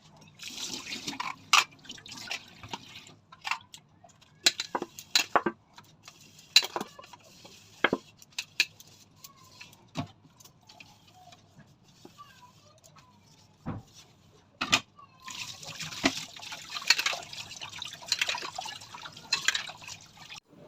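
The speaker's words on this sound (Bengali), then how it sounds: "এই যে বাসন হচ্ছে কি মেজে ধুয়ে গামলার মধ্যে উপর করে রেখে দিয়েছি, জল ঝরে যাক" Water drips from washed dishes turned upside down in a basin, giving scattered sharp drips and small clinks at an irregular pace, close and fairly clear, with a soft patch of splashing near the end.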